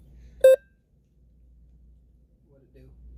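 One short, clear electronic beep from a device sounds near the start, followed by near silence and faint voices talking afterward.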